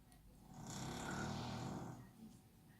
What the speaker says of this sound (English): Yes, that's my dog snoring.